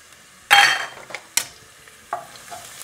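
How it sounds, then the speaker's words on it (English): Chopped garlic dropped into hot rapeseed or sunflower oil in a pan, a sudden loud burst of sizzling followed by a few softer clinks and stirring scrapes, close up with no talking. "Gonna add in the chopped up garlic and just give it a minute."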